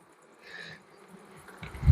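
Honey bees at an open beehive give a faint, brief buzz, with a soft drone swelling for a moment over quiet background.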